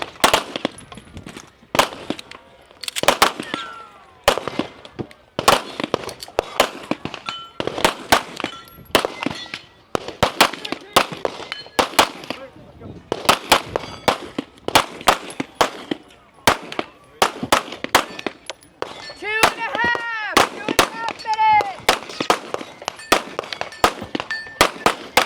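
Rapid pistol shots crack in quick bursts, each followed by a bright metallic clang from steel targets, during a women's elite stage at a 2024 national shooting competition; a voice briefly joins near the end.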